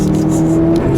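A 2015 Subaru WRX STI cruises with a steady low engine hum from inside the cabin, a brief, constant drone with faint road noise.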